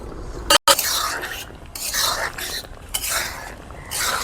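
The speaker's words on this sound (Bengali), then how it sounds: "তার আগে কিন্তু যে ভেজে রেখেছিলাম পনিরটা ওটা কিন্তু দিয়ে দিচ্ছি। ভালো করে এখন নেড়ে চেড়ে নেব।" A metal spoon stirs paneer curry in a cooking pot during village-style cooking, with repeated close scraping and clinking strokes against the pot in an irregular rhythm.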